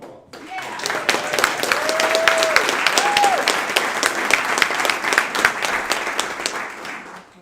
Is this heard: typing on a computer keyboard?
no